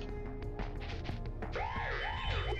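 A wailing alarm siren in the game Spyro: Gateway to Glimmer rises and falls in sweeping tones, mixed with clattering, busy game sounds; fairly faint overall.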